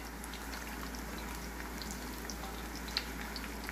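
Homemade tortillas frying in hot oil for chicken quesadillas, a steady dense sizzle and crackle with scattered pops, close and even throughout, no voices.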